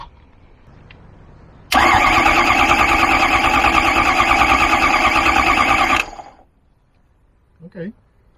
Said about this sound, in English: So I'm gonna see if it cranks.